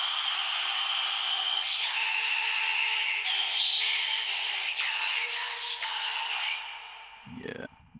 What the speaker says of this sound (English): this creepy vocal, I've used iZotope Vocal Synth 2